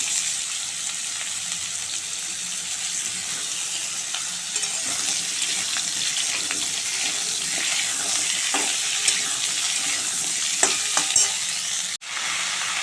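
Pumpkin and potato pieces frying in a pan, a steady close sizzle with occasional stirring scrapes and small pops throughout, no talking.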